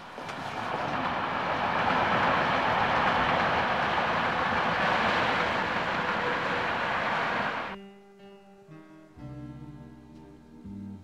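A train rolls slowly along a railway track with a steady, close rumble and clatter that fades out and gives way to music.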